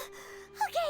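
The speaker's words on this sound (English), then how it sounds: "Gasp!" A character in the Genshin Impact video game lets out a short, sharp gasp, close and clear against a quiet game background.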